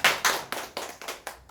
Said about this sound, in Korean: 자 우리 카이 강사님한테 박수 한번 보내주세요.